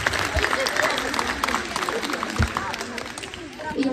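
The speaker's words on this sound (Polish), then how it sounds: "I teraz jest właśnie czas na brawa dla was," Applause for children at a gathering in Włocławek, a steady crowd clapping mixed with murmuring voices and some bumps, continuing at moderate level throughout.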